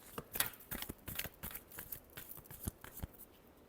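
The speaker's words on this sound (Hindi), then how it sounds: "Last shuffle." Tarot cards are shuffled by hand in a series of quick soft riffles and taps, faint and close, with no talk.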